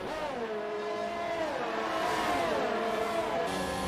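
A McLaren Formula 1 car in a racing video game, set at the Austria circuit, drones past with a steady, loud high-pitched engine whine that rises and dips through gear changes, with no other voices.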